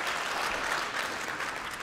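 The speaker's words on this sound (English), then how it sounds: "you don't have to pity applaud me, it's fine, I get it" Applause from a conference audience in a large hall, a dense, steady patter of many hands clapping at moderate volume throughout, with no voices over it.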